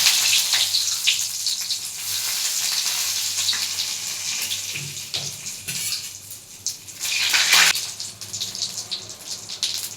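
Dried chili, bay leaf and whole cumin dropped into hot oil, giving a steady close hiss and sizzle with crackling bursts for several seconds and no talk.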